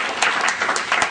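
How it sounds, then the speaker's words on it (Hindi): Brief burst of applause at an evening poetry gathering honouring an elder guest, a handful of distinct claps standing out from a steady patter. "एक बुजुर्ग विसायती जी की जरा तालियां बजा दीजिए"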